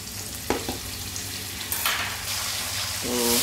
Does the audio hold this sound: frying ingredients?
yes